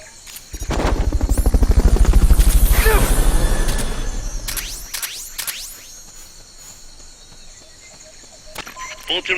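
A loud Fulton recovery helicopter rotor in Metal Gear Solid: Peace Walker thumps steadily for a few seconds, then fades out, leaving faint whooshes and scattered effects from the game soundtrack.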